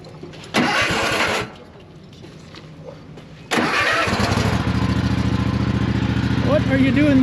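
A zero-turn mower engine on a farm cranks briefly, pauses, then fires up and settles into a steady, loud mid-pitched idle, with voices talking nearby.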